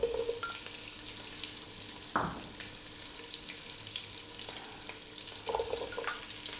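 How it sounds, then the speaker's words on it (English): Garlic, onion and potato drop into olive oil in a soup pot for beetroot and coconut milk soup, giving a soft, steady frying hiss with a couple of brief splashy bursts, quiet and alone. "We'll start off by dropping in our garlic, our onion, the potato"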